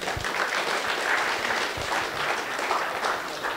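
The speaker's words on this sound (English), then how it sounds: "give yourself a round of applause" An audience at a Ruby programming conference breaks into steady applause, a dense wash of clapping that holds evenly throughout with a few louder nearby claps.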